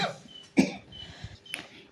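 A cook preparing potato chicken curry coughs, irritated by black pepper, giving one sharp close cough, then softer throat clearing and a second short cough, against a quiet kitchen background.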